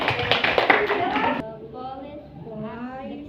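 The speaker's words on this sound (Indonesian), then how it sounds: "Tepuk tangan untuk" A school classroom of students claps together in a short, brisk burst that stops abruptly, followed by a teacher and pupils talking.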